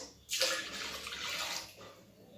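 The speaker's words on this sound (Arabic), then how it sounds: "غنهزو دوك 2 كيسان ديال الحليب غنكبوهم في الاناء باش غنخدموا" Milk from two bags poured into a bowl gives a soft, steady liquid splash that starts abruptly and runs on for about two seconds, faint and close.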